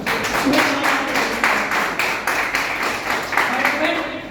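Loud applause at a network marketing seminar, a sustained crowd of clapping hands with rhythmic swells and a voice faintly over it.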